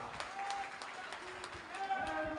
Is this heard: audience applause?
yes